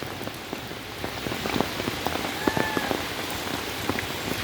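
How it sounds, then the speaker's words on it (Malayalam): Heavy rain falls steadily, a dense hiss of close drops with sharper patters striking nearby surfaces and no voices. "നല്ല മഴ പെയ്യാണ്"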